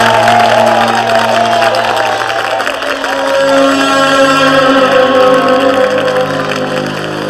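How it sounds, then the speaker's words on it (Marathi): A theatre audience at a Marathi stage drama breaks into sustained applause mixed with cheering and whoops. The dense clapping stays loud and steady throughout, with a tonal musical layer running beneath the crowd. "चेहऱ्याला रंग न लावता वाजणाऱ्या या टाळ्या ऐकू येत आहेत ना?"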